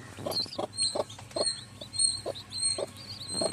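A black hen clucks in a steady series of short, low calls, close by, with faint birdsong in the background.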